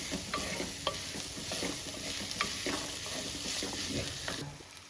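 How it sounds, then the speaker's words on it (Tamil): Onions sauté in a pan for a Jalebi fish curry, a spatula scraping and stirring in repeated strokes over a continuous sizzle, close by and with no talking. "வெங்காயமெல்லாம் நல்லா வணங்கி வருது"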